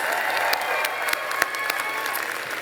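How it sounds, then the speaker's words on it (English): A crowd applauds at a college commencement ceremony after a performance, with continuous clapping and a few sharper individual claps standing out near the listener, plus faint cheering underneath. "Can I get one more round of applause for that amazing performance?"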